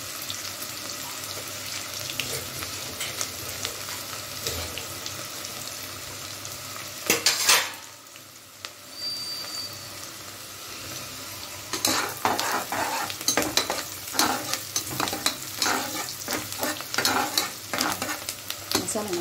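Three large onions sizzling in a pan for mutton boti gravy, stirred with repeated scraping strokes; the frying drops away briefly midway, then returns louder with brisk stirring, no talking.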